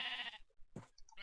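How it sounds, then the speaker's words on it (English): A sheep in the Minecraft video game bleats in short, faint calls, one of them a brief burst near the end, with quiet gaps between them. "I actually found two regular sheep, and I found this gray sheep"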